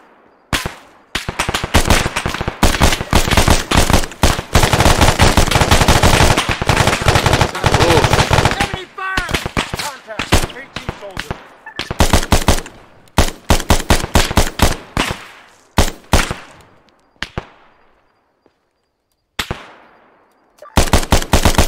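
Sustained machine gun fire in the combat video game Arma 3, long loud rattling bursts that break into shorter volleys and isolated shots with gaps near the end, and a voice talking faintly underneath.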